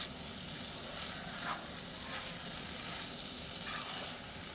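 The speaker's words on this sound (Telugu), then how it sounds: "ధనియాల పౌడర్ వేసి ఒక్కసారి ఈ పౌడర్ అంతా కూడా మొత్తం అన్నిటికీ పట్టించేద్దామండి." Soft, steady sizzle of tomatoes and capsicum frying on a tawa for Mumbai tawa pulao as coriander powder is stirred in, with a few light scrapes of a spoon; fairly quiet and close.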